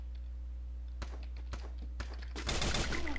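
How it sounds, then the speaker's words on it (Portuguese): SKS rifle shots ring out in a first-person shooter game, four sharp single cracks spaced about half a second apart over a steady low hum, followed by a louder dense burst of gunfire and impacts. "Tinha um tiro de SKS dele"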